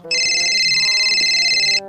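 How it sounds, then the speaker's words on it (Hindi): A bright electronic ringtone trills steadily for about two seconds, loud and close. "फोन किसका आ रहा है"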